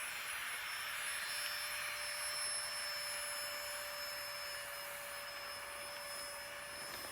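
A small rechargeable air pump inflates a sleeping pad with a constant high-pitched electric whine and airy hiss, steady and close throughout, with no voices.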